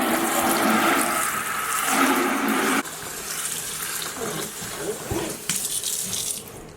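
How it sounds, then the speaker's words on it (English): Water spraying and rushing into a sink to rinse it out during room cleaning, a loud continuous gush that changes character midway, with splashing and faint handling noises. "We're just gonna spray it out."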